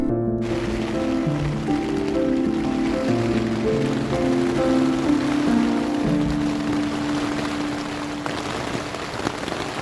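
Heavy rain falls steadily on a campsite in Barra do Chuí, Uruguay, a continuous dense patter throughout, with tonal music-like layers running underneath.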